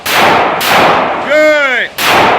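Handgun shots crack out during carry permit training on an outdoor firing line, three loud broadband bursts with a shouted command in between, each blast cutting off sharply.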